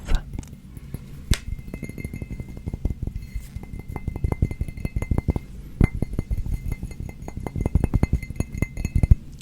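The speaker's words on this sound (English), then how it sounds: "For the glass fully empty people, we have an empty glass." An empty drinking glass handled and tapped close up, giving a long run of quick, dense clinks and light knocks with a few sharper rings, steady throughout with no talking.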